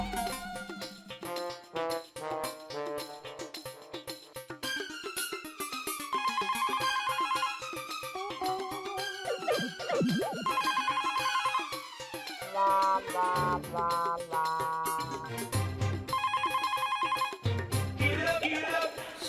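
A telephone rings on and on without being answered, its repeated tones set against a busy comedic sitcom music score that swells and shifts throughout.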